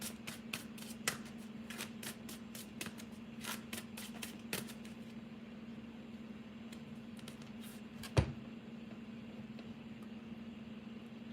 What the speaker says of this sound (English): I just had to shuffle so I can get a little bit of information.